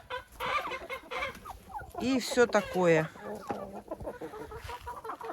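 Hens cluck and chatter close by while pecking at table scraps of leftover porridge and vermicelli, a busy jumble of short calls with a louder burst in the middle and someone talking quietly beneath.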